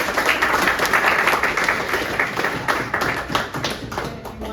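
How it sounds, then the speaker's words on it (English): Audience applause for Ro at a membership meeting, dense close clapping from a modest crowd that stays strong for several seconds and thins slightly toward the end. "Let's give Ro a round of applause."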